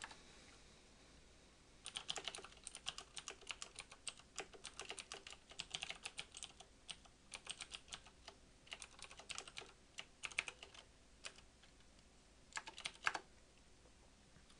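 Quiet keystrokes on a computer keyboard as code is typed for an Android tic-tac-toe app, starting after a short pause and coming in quick irregular bursts with brief gaps, close and alone without talk.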